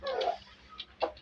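A broody hen clucks a few short, close calls in quick succession, with a fainter cluck after a brief pause, no talking.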